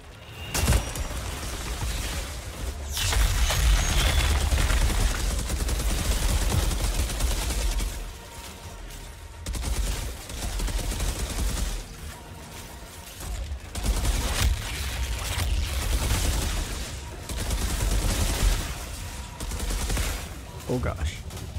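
Light machine gun and submachine gun fire in a video game rattles out in loud, sustained bursts, broken by short pauses. Dense, close volleys dominate the whole stretch.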